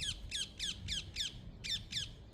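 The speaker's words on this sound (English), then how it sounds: "Parakeets are well busy on these beech nuts. They're all in trees above me. You can hear them" Parakeets squawk up in beech trees while feeding on beech nuts, a string of harsh, repeated outdoor calls at moderate distance over a low background rumble.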